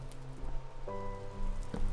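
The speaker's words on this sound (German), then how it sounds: "Draußen regnet's." Rain falls in the Minecraft video game as a soft, steady hiss and patter, continuous and fairly quiet, with some tonal game sounds layered over it and no speech.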